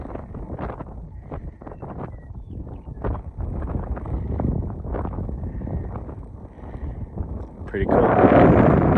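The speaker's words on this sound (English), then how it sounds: "Too windy though today, and cold." Wind buffets the microphone across open ranch ground in the cold, loud rumbling gusts under a man's speech and rising to a strong roar near the end.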